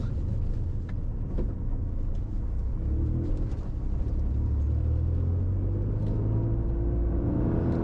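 A Toyota GR Yaris with all-wheel drive rolling over a speed bump, heard from inside as a low continuous engine and road rumble with a faint thump and a slight rise in engine tone.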